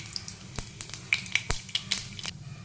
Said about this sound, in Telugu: ఇప్పుడైతే ఆయిల్ వేడైంది. కొంచెం జీలకర్ర వేసుకుని, అలాగే కొన్ని ఆవాలు.